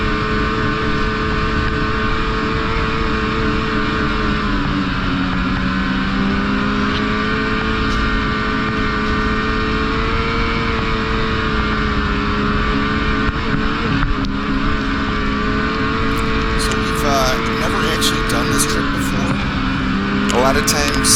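A snowmobile rides a trail between Tug Hill and Old Forge, its engine droning loud and steady throughout, with wind rush over the microphone and slight pitch shifts as the throttle changes.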